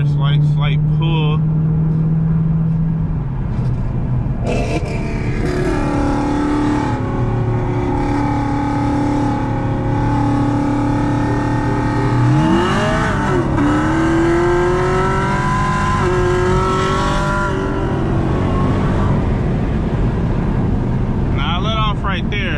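A stock supercharged Dodge Challenger Hellcat Redeye roll racing a bolt-on Camaro ZL1 with E50, intake and header tune: loud, steady engine roar and rising pitch as the car pulls hard, with wind rush and people talking over it.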